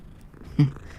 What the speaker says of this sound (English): Oh, hello, another cat.